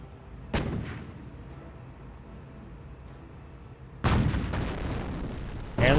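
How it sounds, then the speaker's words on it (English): A landmine detonates in Company of Heroes, a sharp loud boom early on followed by a rumbling tail, then a second heavy blast with cracking follow-up bursts and another hit right at the end. "Landmine's been detonated."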